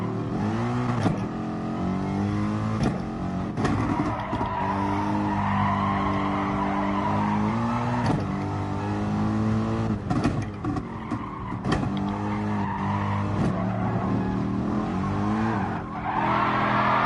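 A car in a PS4 racing game drifts through a long slide, its tires squealing and skidding continuously over a steady engine drone, with brief sharp accents along the way.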